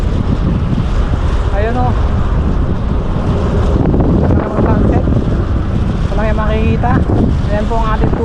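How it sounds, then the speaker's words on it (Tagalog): Heavy wind roars steadily into the microphone while cycling in Punggol Park at sunset, with someone speaking over the constant buffeting rush. "nararamdaman ko po na hinihila ko ng hangin, tinutulak ng hangin ang ating bisikleta"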